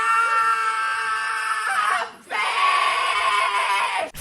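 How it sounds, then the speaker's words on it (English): Very loud singing from a school project sounds like screaming through a classroom wall: a sustained, strained high voice that breaks off briefly near the middle, then returns just as loud and harsh. "it sounded like horrific screaming from their end"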